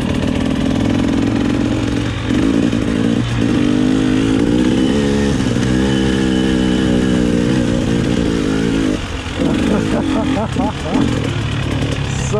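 Motorcycle engine revving and throttling up a hill at Thomaston Dam, loud and close with rising and falling pitch as gears change, continuous throughout the stretch.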